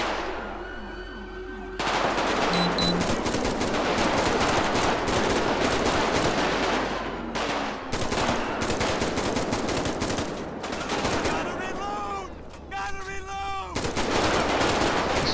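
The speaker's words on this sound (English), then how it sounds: "Oh, we got a full-fledged shootout here." A police shootout in GTA V with the LSPDFR mod: sustained bursts of automatic and rapid gunfire crackle almost without pause, loud and close, with brief lulls and sharp single shots near the end.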